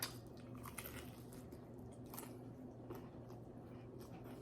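Crunchy pork belly skin chewed close to the mic, a series of crisp bites and crunches in quick irregular rhythm, quiet and alone.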